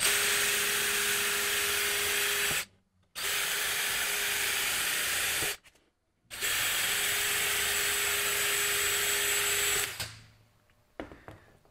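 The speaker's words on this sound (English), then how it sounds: "And I'll drill the pilot hole." A power drill whirs loudly and continuously drilling pilot holes in three long bursts with brief pauses between, ending in a winding-down spin and a few light clatters.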